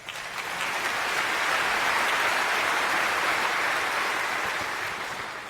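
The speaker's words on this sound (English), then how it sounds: "round of applause for the graduates" An audience in a lecture hall applauds graduates, a steady, broad wash of many hands clapping that swells and then tapers slightly, with no voices over it.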